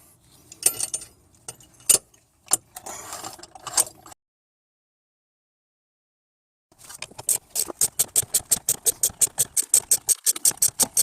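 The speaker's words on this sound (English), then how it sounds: "This is a piston compression tool designed for dual piston setups" Ratcheting piston compression tool working on a dual-piston brake caliper of an Acura MDX, a few scattered clicks, a pause, then a rapid even run of close, sharp ratchet clicks.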